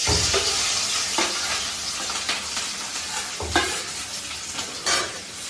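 Onion, chili and garlic fry in oil with a loud, steady sizzle that runs straight through, broken by scraping stirs of a utensil against the pan every second or so.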